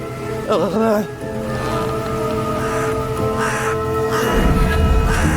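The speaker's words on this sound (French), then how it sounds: "Et les corbeaux feront de superbes statues." Crows cawing, a few harsh rasping calls early on, then steady voices talking in French over a continuous background, with a louder low rumble near the end.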